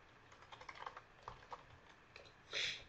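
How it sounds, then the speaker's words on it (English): Computer keyboard being typed on while entering a contact's name in office software, a quick irregular run of close, light key clicks with a louder burst near the end, no talking. "In here, you're going to type their name."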